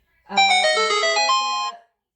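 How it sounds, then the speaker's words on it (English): A mobile phone rings once with a short electronic melody of clear tones, close and loud against an otherwise quiet room, stopping abruptly after about a second and a half. "that was my phone"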